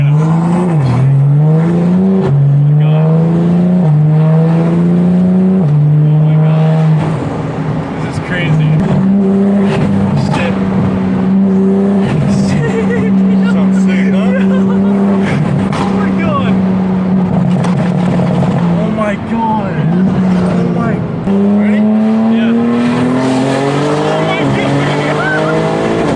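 A tuned BMW M car making about 900 wheel horsepower warms up, its loud, deep, steady engine drone swelling in pitch at the start and again near the end, close and continuous throughout.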